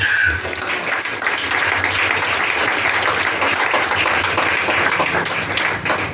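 A church congregation claps steadily and densely for several seconds, a continuous wash of applause filling a large room.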